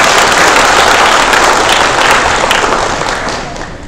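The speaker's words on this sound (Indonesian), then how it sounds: "Tepuk tangan untuk kita semua." An indoor audience at a regional nurses' congress claps loudly and densely. The applause holds steady, then fades toward the end.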